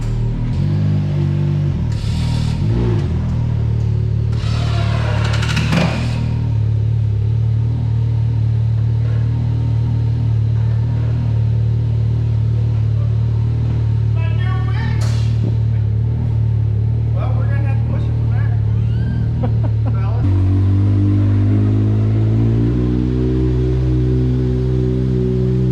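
A Can-Am Maverick side-by-side engine revs and surges through donuts on dirt, loud and close, its pitch climbing and dropping, with people talking over it.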